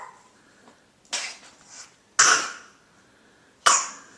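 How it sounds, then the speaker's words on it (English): A child coughs beside a baby sister in three sharp, separate bursts, each followed by quieter throaty rasps, heard up close and without any talking. "No, don't cough on baby sister"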